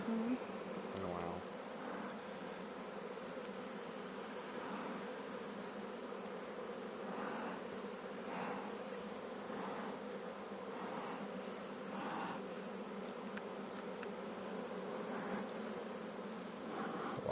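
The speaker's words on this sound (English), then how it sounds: "Lots of bees." A dense, steady hum of many honey bees buzzing close by at a hive, continuous throughout with faint background murmurs.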